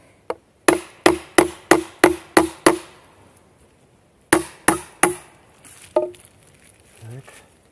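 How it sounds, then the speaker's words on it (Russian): A hammer drives a nail into wood in a dugout forest house, with two quick runs of about seven and four sharp, evenly spaced blows, then a few scattered lighter knocks. "Сейчас сюда забью один гвоздь."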